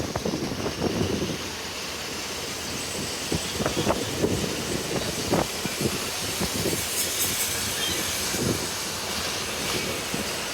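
Rumbling railway noise with scattered clanks and hissing, a steady busy din like a train idling at the platform of Tenkasi railway station, Tamil Nadu.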